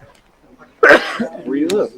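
A single abrupt sneeze bursts out during a conversation, loud and close, with a person speaking right after it.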